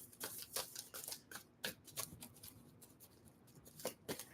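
Quiet, close-up shuffling of tarot cards: a run of crisp riffling snaps and soft taps in irregular bursts, with no talking.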